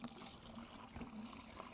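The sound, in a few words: water running from a tap at the base of a water filter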